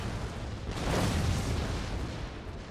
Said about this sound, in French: c'est rien, c'est juste des feux d'artifice